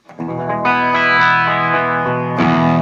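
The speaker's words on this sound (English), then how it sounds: "I'll have my amp on clean so that it's basically on a bypass, and you basically just hear the pedal" A sustained electric guitar chord ringing through the swirling modulation of an Ibanez PT5 phaser pedal into a clean amp, loud and close, with a fresh chord struck near the end.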